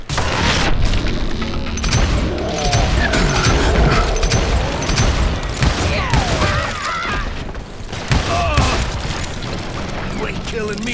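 Dynamite blasts in the Call of Juarez Gunslinger video game, a dense run of loud booms and crashing debris with clattering mechanisms, continuous and close, mixed with game dialogue.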